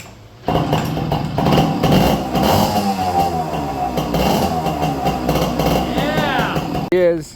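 A 1965 Yamaha Trailmaster motorcycle engine, restored with a new exhaust, runs with a rough, rattling idle and revs, loud and close, ending with a short burst of higher-pitched noise.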